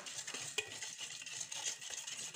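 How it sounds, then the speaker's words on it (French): Doughnut batter with lemon zest is stirred right after melted butter goes in: a close, continuous wet scraping and swishing in a bowl, with faint utensil clinks. "Nous mélangeons."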